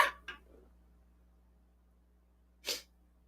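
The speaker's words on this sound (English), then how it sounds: "Sneeze." Two sharp, close sneezes in quick succession, a quiet pause with faint breath, then a third loud sneeze, in a quiet indoor room.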